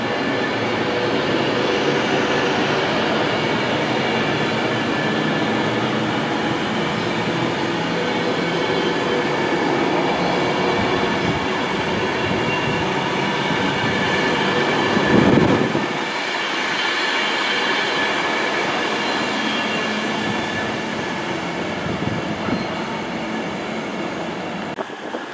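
A train from London Euston to Manchester Piccadilly slowing for a red signal produces a loud, continuous rolling rumble with rhythmic wheel clatter and faint squealing, easing off as it slows.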